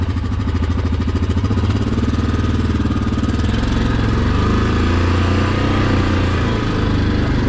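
A Yamaha Kodiak 700 ATV engine runs in low gear, a steady close-up mid-pitched drone with a fast even chug that holds loud and continuous throughout.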